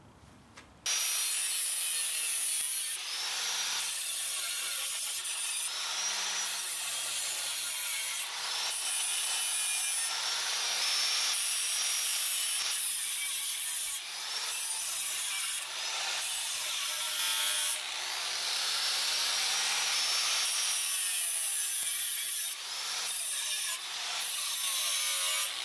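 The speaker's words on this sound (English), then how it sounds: "I'm just going to cut it down to length so that I have a 6-inch diameter star" Forged steel split cross being cut down to length, with loud, steady back-and-forth sawing strokes in a continuous rhythm, close up and with no voices.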